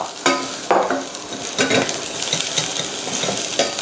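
Vegetables for borscht being stir-fried in oil in a pan, with repeated scraping stir strokes over a steady close sizzle, no voices.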